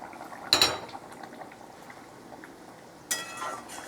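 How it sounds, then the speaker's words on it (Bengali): Fish goes into a simmering pot of potato and pumpkin: two short metallic clinks and splashes, one near the start and one near the end, with a quiet bubbling in between. "এবার আমি মাছটা দিয়ে দিচ্ছি।"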